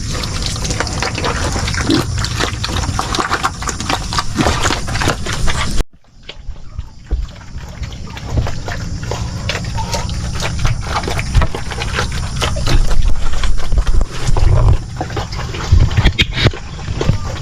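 Pigs and ducks eating on a farm, a continuous wet slurping, sloshing and chomping, loud and close, with a brief cut partway through before the messy feeding noise resumes.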